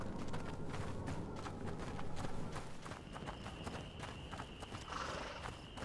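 Horse hooves clip-clop at a steady trotting rhythm in the video game A Plague Tale: Innocence, a string of sharp repeated knocks over dark ambient rumble, with a faint tone rising partway through.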